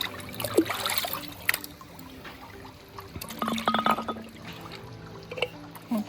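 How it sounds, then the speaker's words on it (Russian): Water bubbling and trickling in a pool on Mallorca, intermittent gurgles and splashes close by, with voices talking in the background. "О, прикольно, тут пузыречки прямо."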